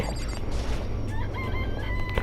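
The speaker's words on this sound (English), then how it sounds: "It's a chicken. It really is, right?" Chicken clucking and crowing in the Danganronpa: Trigger Happy Havoc video game, a loud, busy stretch of rooster calls and clucks layered over constant game background sound.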